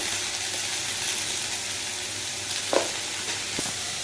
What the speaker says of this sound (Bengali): প্রথমে ফুলকপিটাকে ভালো করে লাল লাল করে ভেজে নেব